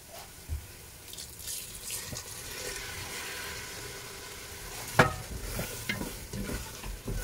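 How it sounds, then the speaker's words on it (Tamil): Hot water is poured into frying mutton dalcha masala and stirred, producing a quiet sizzle and watery splashing with occasional spoon knocks, one sharper clack standing out partway through. "ஒரு 1/2 கப்பு வகையில் ஹாட் வாட்டர் ஆட் பண்ணியிருக்கேன்."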